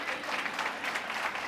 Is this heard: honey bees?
no